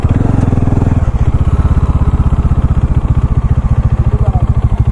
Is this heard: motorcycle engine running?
yes